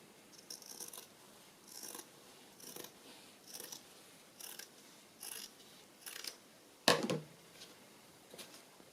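Scissors cut paper for a bird journal in close, quiet snips, about a dozen rhythmic crunching cuts, with one louder clack near the end.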